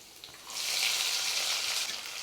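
Small shallots go into hot oil with curry leaves for kuzhambu, setting off a sudden sizzle after a quiet moment. The sizzle swells into a loud, close, steady hiss, then eases slightly, with no talking.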